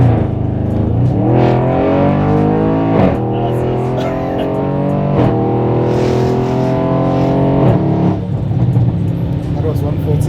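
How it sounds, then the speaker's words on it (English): An Audi RS6 engine revs hard while the car is driven on the road, a loud continuous drone that climbs in pitch and drops back at each gear change, repeating several times. "I just want to drive this car because it is so fun to drive"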